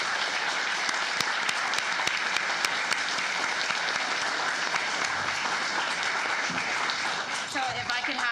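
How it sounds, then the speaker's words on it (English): Attendees at a county commissioners court meeting give a long round of applause, steady dense clapping from many people close by, with some talk near the end. "Let's give all these folks a tremendous round of applause."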